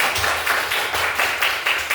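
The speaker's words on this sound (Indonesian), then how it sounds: "Beri tepuk tangan untuk kita semua." Group of people clapping hands together at a teacher performance exam session in a classroom, a steady, fairly loud run of overlapping claps with a loose pulse of about two beats per second, no talk over it.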